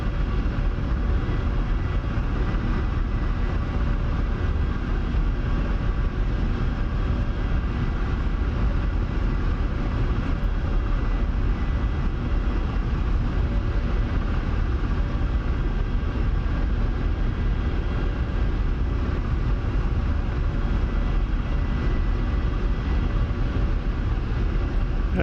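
A Ka-50 Black Shark helicopter in DCS produces a loud, dense, unbroken rotor and turbine roar that stays constant for the whole stretch, with no pauses.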